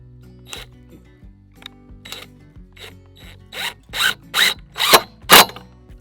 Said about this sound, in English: we're just going to screw in our 2-inch screws